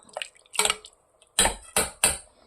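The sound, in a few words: closing the lid of a cooking pot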